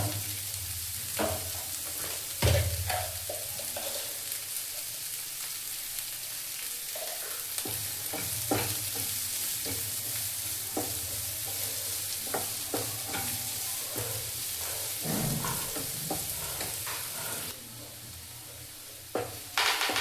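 Onions frying in a pan with salt for beetroot chutney, a steady broadband sizzle with scattered spoon scrapes and stirring clicks throughout, fairly close and alone without talk.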